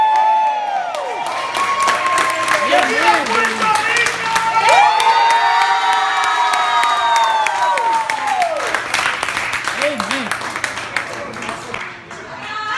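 A church congregation at a prayer gathering for a movement cheers, whoops and claps loudly and steadily, with shouted voices rising over the crowd noise and a man calling out across it.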